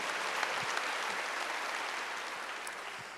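Church congregation clapping during a Korean Wednesday worship service, a steady faint wash of many hands clapping together, continuous and diffuse without pauses.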